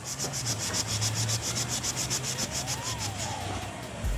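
Gummy, melty plastic in a Nissan Skyline R34 car interior being scrubbed with Ulex cleaner, a steady close rubbing and scraping with fast repeated strokes, with no talk during the scrubbing.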